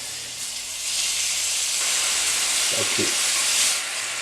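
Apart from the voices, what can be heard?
beef strips sizzling in melted butter in a hot cast-iron pan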